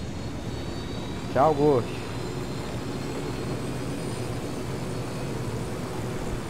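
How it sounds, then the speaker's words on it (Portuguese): A helicopter in the video game Tom Clancy's Ghost Recon Wildlands keeps up a steady engine drone throughout, while a player speaks briefly over it. "Aqui está o helicóptero!"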